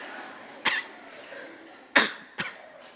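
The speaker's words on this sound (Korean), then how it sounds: "우리 다 같이 기침할까요?" A church congregation at a Korean sermon coughs on cue, giving three sharp, separate cough bursts over a low room murmur.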